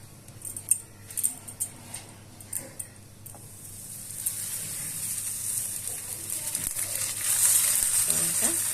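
A paratha fries in hot oil in a frying pan: light clinks and handling knocks at first, then a soft hissing sizzle that swells and holds, faint and close with no talk.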